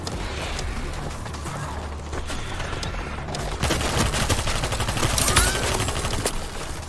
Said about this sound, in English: This is also an auto sniper.